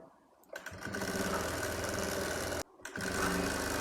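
A sewing machine stitches a baby skirt and top in fast, even running bursts, stopping briefly twice between runs, close and clear with no talk.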